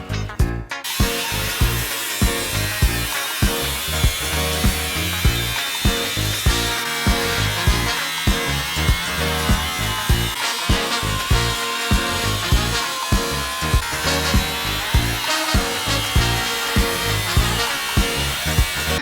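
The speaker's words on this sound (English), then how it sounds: "I really didn't want to cut apart the factory chassis whatsoever," Power tool cutting apart the factory chassis of a Honda NSX, loud and continuous with a steady rhythmic grinding pulse throughout, no voices.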